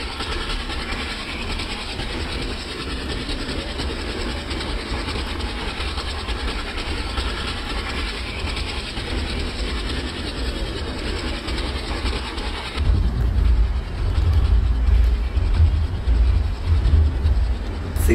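Train rolling on rails in Microsoft Train Simulator, the Shramjevi Express from New Delhi to Rajgir, a steady rumbling run that deepens and grows louder with heavier low clatter partway through.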